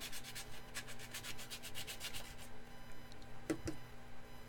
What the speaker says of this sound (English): Let's try sandpaper with the shape of the file.